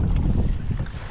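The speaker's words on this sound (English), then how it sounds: "the wind is picking up out here" Wind blows across open water off the Florida Keys mangroves, a loud, steady low rumble and buffet against the microphone with no voices.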